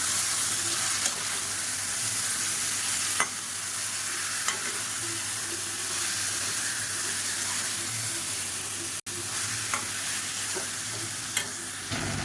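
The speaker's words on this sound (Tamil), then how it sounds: "இப்போ இந்த ஸ்டேஜில் நம்ம ஊற வச்சுக்கிற சிக்கனாக சேர்த்துக்கலாம் சேர்த்துட்டு நல்லா பரட்டி விட்டுக்கலாம்" Marinated chicken sizzles and fries with browned onions in a pan for a Tamil-style chicken kulambu. A constant loud crackle plays throughout, broken by occasional scrapes and knocks of the stirring spoon.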